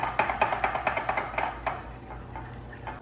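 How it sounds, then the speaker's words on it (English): Milk is whisked into a batter in a bowl, a quick run of light rhythmic taps and scrapes that fades toward the end, heard close with no talking. "Get that all whisked together."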